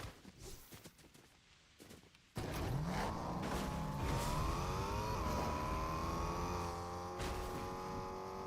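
In a superhero-season battle royale game, footsteps and rustling give way to a game car starting up and driving off, its engine whirring loud and steady with rising and falling pitch as it accelerates.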